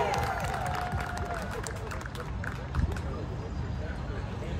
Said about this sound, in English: you should be clapping one more time